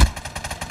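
Short burst of rapid, evenly spaced rifle shots from an FR 556 in a shooter game, loud and close with no talking.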